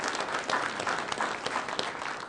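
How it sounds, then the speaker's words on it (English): An audience applauds at a speaker introduction event, with dense steady clapping from many hands at moderate distance throughout. "Round of applause for Roy."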